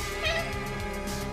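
A squeaky pet cat named Poppy lets out a short, high, nasal meow close to the microphone, heard over a faint steady background hum.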